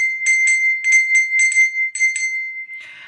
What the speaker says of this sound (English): Bells. I've got this little bell here.